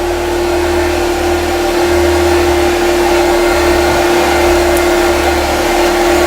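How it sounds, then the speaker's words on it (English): An iVo Steam Tekna steam carpet cleaner runs its vacuum steadily with a constant whining hum and roaring airflow, loud and uninterrupted throughout. "Now I can turn the vacuum on"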